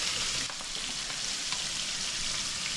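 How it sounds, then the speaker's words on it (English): Morel mushrooms frying in butter in a pan, a steady close hiss and sizzle with faint crackles running throughout, no voices. "Watch them fry up, would you?"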